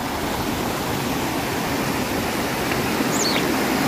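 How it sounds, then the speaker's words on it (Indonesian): A river roars in a continuous, loud, dense rush near a remote forest house, with a faint bird chirp briefly audible above the steady water noise. "Di sini ada gemuruh. Suara gemuruh sungai."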